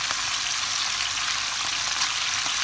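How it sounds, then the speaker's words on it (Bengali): Hilsa fish pieces frying gently in hot oil for a traditional Bengali dish, giving a steady, close hiss and crackle of sizzling that runs evenly throughout with no talking. "আমি হালকা করে মাছে ভেজে নেব"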